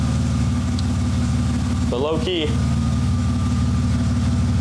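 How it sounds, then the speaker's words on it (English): A manual-swapped BMW E36 engine idles with a steady low rumble throughout, close by, while a person speaks briefly in the middle. "the car is idling really well right now"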